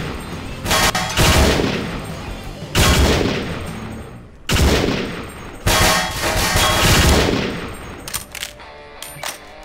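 Rapid bursts of machine-gun fire in Garry's Mod, a TFA weapon, loud and close, coming in four or five sustained volleys separated by short pauses, then scattered lighter clicks and clinks near the end.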